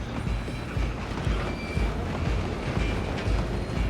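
A moving train in the Red Dead Redemption 2 video game, a steady broadband rumble and rattle of rolling cars that runs continuously at even loudness throughout, with some wind-like noise over it.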